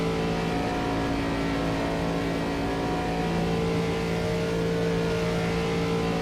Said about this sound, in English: This car is coming off the pit lane.